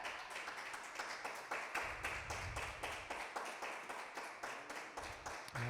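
A church congregation claps in a steady rhythmic beat, sharp and evenly spaced, throughout the stretch without a break, fairly faint in the room, with no voices over it.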